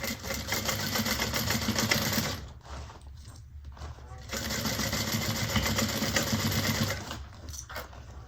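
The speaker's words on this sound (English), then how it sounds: "And we're going to sew across at 3/8." A sewing machine runs in two sustained bursts across a bag seam at a 3/8 inch allowance, whirring steadily and close, with a quieter gap between the runs.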